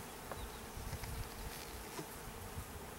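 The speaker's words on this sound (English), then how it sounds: "It just got some bees walking around." Honey bees buzz steadily around an opened hive during an inspection, a dense, close, continuous hum of many insects with no talking.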